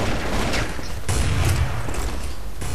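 Counter-Strike Source gunfire on the de_dust2 map makes loud, dense volleys of shots, with sniper rifle fire among the rapid bursts and no break in between.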